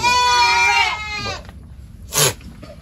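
A pregnant nanny goat bleats loudly and close by with a long, wavering cry. After a pause, one shorter bleat follows.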